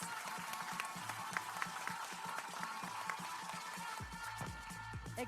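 An audience claps for student presenters after a case presentation, a faint, scattered patter of hands heard from a distance.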